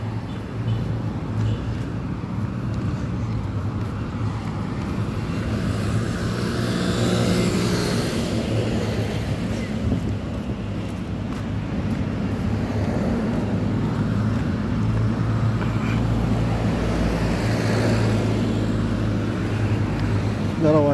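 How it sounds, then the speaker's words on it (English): Cars and traffic pass along a sunny city street on Gil Fernando Avenue near a gas station, a steady broadband road rumble with swells as vehicles go by, heard throughout with faint voices in the background. "Gotta watch out for cars coming in out of this gas station."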